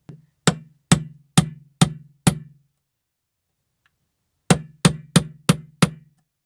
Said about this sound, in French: Donc je vais juste finir les clous